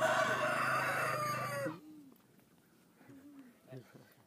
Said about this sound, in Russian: Петушок.